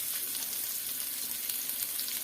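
Eggplant slices fry in a pan with a steady, even sizzle and crackle that holds at a constant level throughout, with no voices.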